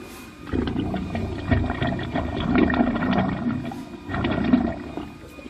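A drain cleaning cable spins inside an underground sewer line near a pool, making a deep, steady grinding rumble that drops out briefly partway through, then resumes just as loud.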